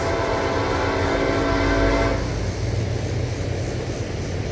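CSX freight train rolling past close by, a loud steady rumble and rail noise that carries a horn-like tonal band at first, then eases into a broader grinding roar of cars passing, with no voices.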